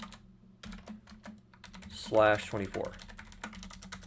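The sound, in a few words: typing on a computer keyboard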